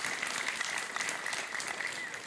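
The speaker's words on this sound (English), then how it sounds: "Round of applause for our honeymooners" Steady applause from a cruise ship crowd fills the whole stretch, dense clapping at an even level with no pauses.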